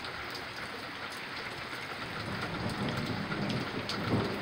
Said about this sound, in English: Yeah, hopefully the storm passes.